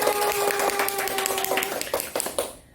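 Children clap energetically to open a review game at a church kids' class, a dense burst of overlapping hand claps with a steady tone beneath, fading out near the end.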